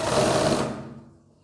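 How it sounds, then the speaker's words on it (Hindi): A sewing machine stitches a kurti collar in one close, steady whirring run that slows and fades out after about a second. "ऐसे आपको सिलाई लगा लेनी है।"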